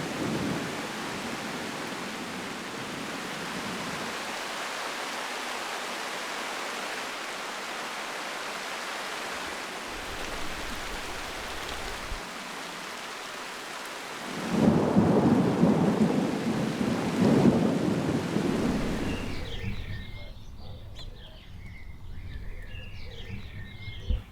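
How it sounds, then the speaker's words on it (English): Steady rain from a thundery summer downpour pours down on a garden with low rumbling thunder rolling in the distance, swelling louder midway before easing to a lighter patter. "After almost a month of dry weather, a thundery downpour refreshes the garden."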